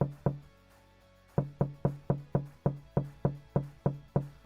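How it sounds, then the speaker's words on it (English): Evenly spaced sharp knocks, about a dozen in all, with a pause after the first two before the rest follow in a steady rhythm, close and clear over quiet background. "Chirping and knocking noise get you going in the morning."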